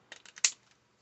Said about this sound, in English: use your decorative scissors to make a fun little